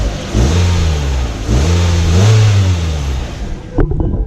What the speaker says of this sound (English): Let's start the car up. Fires right up. No misfire, no stuttering here.